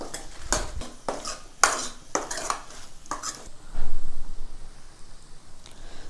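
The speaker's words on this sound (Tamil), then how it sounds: "நல்லா பச்சை வாசம் போகிற அளவுக்கு வதக்கி விட்டுக்கலாம்" A spoon clatters and scrapes against a pan as chilli powder is sautéed for chow chow sambar, with a run of sharp metallic knocks, then a soft sizzle and quieter stirring near the end.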